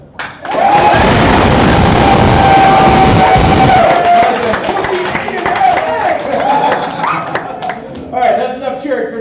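A convention panel crowd cheering, clapping and whooping loudly and continuously for several seconds, then slowly tapering off, with a voice cutting through near the end.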